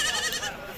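Goats bleat at a busy Khamgaon goat market in Buldhana, with Sirohi and local desi goats of many sizes on sale. A short, fairly loud burst of bleating rises over a steady crowd hubbub.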